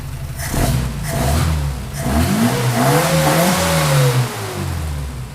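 An Opel GT Targa engine fitted with Weber DCOE carburetors revs up and down several times at close range, its pitch climbing and falling in a steady, throaty roar.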